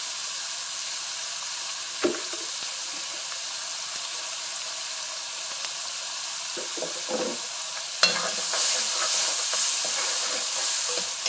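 Onions sauté in oil with salt for a brinjal and peanut kara kuzhambu, with a continuous close sizzle broken by a few utensil scrapes and a sharper stirring burst that leaves the hiss louder.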